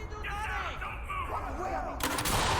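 A flash grenade launcher fires in the tactical shooter Ready or Not. Muffled, warbling game sounds come first, then a sudden sharp burst cuts in near the end and rings out loudly.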